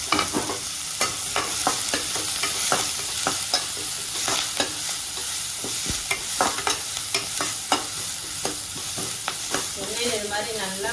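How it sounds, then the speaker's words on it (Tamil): Curry leaves sautéing in hot oil for potato bonda batter, giving a steady close sizzle with repeated sharp scraping and stirring clicks of a spoon against the pan, no talking. "நல்லா போட்டு எண்ணெயில் வதக்கிடுங்க கருவேப்பிலை போட்டுக்கலாங்க"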